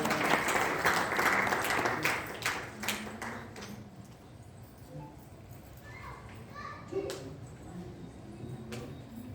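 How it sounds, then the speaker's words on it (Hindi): Audience applause welcoming a speaker at a Hindi book review gathering, a moderate burst of clapping that fades after a few seconds, followed by scattered voices and background chatter. "एक बार जोरदार तालियों से हम उनका फिर से स्वागत करते हैं"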